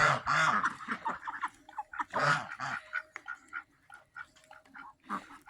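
Ducks quacking in loud, harsh bursts close by, with softer calls and chatter continuing between them.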